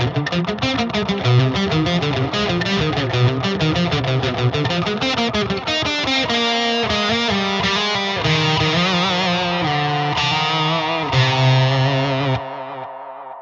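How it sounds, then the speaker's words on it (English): A FLAMMA FX200 guitar multi-effects unit runs a tape delay on a distorted electric guitar, with repeating notes echoing behind a steady riff that ends on a sustained chord before cutting off. "I usually go for the tape delay"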